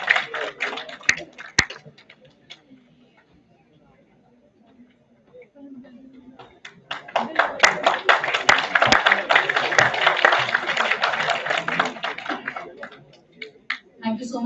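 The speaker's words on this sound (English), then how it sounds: "Let's have a huge round of applause for sir." Audience applause at a national seminar as a guest, an assistant professor, is welcomed to the stage; scattered claps build after a spoken introduction into a steady, moderately loud round of clapping that fades near the end.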